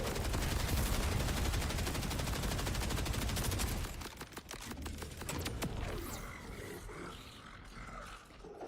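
Rapid, dense gunfire in Borderlands 4 roars continuously for about four seconds, then breaks into scattered shots and crackling effects that fade out, loud and with no talk over it.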